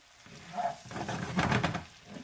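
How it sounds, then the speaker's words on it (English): Candied yams are stirred gently in a pan on the stovetop, a faint, brief soft scraping and bubbling sizzle. "So we're going to give this a little stir gently, not to mush up our yams."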